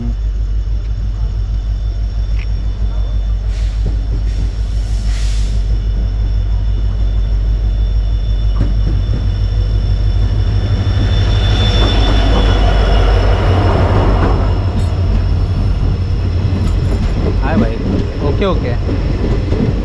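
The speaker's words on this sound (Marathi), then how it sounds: "आली आली आली आली आणि लकीली ट्रेन आली" Tutari Express passenger train pulling into a Konkan station at night after rain, a steady loud rumble of rolling wheels and carriages with squealing wheels rising midway, voices faintly in the background.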